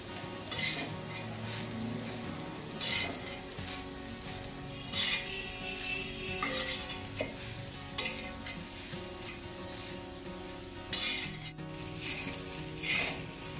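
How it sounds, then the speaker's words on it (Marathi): Soya momo filling stirred in a hot pan, a steady sizzle with scraping spatula strokes and occasional clinks, close and continuous with no talk. "बघा याला असं सारखं हलवत राहायचं मस्त"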